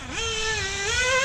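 A Hobao VS2 nitro RC buggy engine revs at about half throttle, a loud, steady buzzing whine that climbs in pitch at the start and again near the end, close up with no talking.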